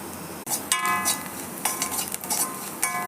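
Mustard seeds, lentils, chillies and onion sauté in hot oil for a raw plantain podimas, with a soft sizzle and scraping stirs that come in short bursts under steady background music.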